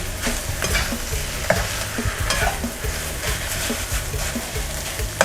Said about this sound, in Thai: เราจะผัดแห้งๆนะะ ผัดไปเรื่อยๆ เร่งไฟแรงนิดนึง